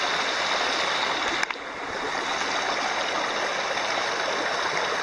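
Bemis Stream on the Appalachian Trail in Maine flowing steadily nearby, a constant close rushing babble of water with one brief knock partway through and no talk.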